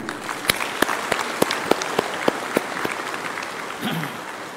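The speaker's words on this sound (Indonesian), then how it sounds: "Kita berikan aplaus dulu semua" Audience clapping at a government civil servant swearing-in and inauguration ceremony in Badung Regency, Bali, a steady wash of many hands with sharp individual claps popping out, sustained through the clip with no talk over it.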